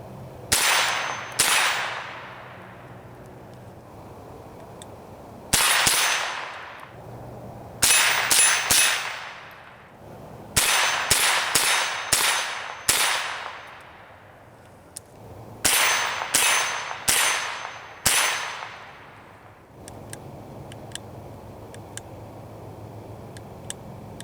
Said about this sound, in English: So now we're going to do a little night shooting.